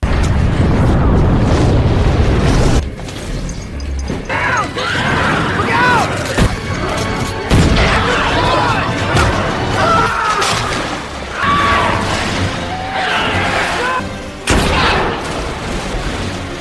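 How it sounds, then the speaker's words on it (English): A propane tank explodes in a loud blast followed by heavy crashing, rumbling booms and scattered bursts of gunfire over more than fifteen seconds. "tosses a propane tank from the roof and shoots it, causing a massive explosion that scatters the zombies"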